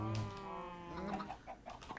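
A laying hen clucks repeatedly in a farmyard: a steady run of short, nasal, close-up clucks with a brief squawky call at the start.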